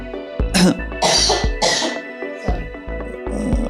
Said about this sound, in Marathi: खोकला पण लागला तुम्हाला